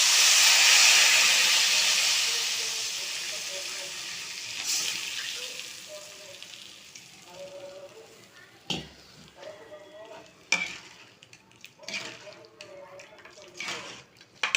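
Tamarind extract poured into a hot pan with turmeric for temple-style puliyodharai: a loud sizzling hiss at the start that fades over several seconds into gentle bubbling and stirring, with a voice talking in between.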